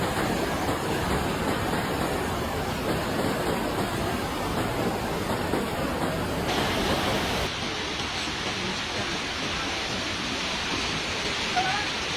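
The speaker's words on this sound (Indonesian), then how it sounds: "Di Sungai Batu Busuk kembali meluap ke akses jalan warga" The flooded Batu Busuk river overflows onto a residential access road, making a loud, continuous roar of rushing water that holds steady throughout with no break.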